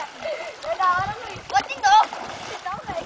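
Water splashes as people bathe in an outdoor stream in Ceará, with loud, lively voices talking and calling over the irregular splashing throughout.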